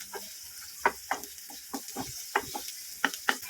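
Garlic, onion and dried chilies fry in a pan over medium heat, with a soft sizzle under irregular scraping and stirring knocks from a spatula.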